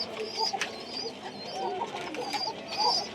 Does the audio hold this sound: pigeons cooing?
yes